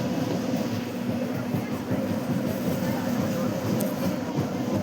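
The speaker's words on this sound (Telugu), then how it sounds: "ఇటుపక్క గూడ్స్ ట్రైన్ ఉంది" A goods train stands at Nambur station, heard as a steady low rumbling drone with broadband noise throughout, fairly loud and continuous, with faint background voices.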